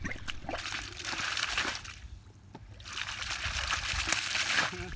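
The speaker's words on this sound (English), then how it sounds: "No more carrying buckets, but someone had to continuously pump water." Water gushes and splashes from a homemade PVC pump with check valves, in two strong surges separated by a short lull, close and continuous.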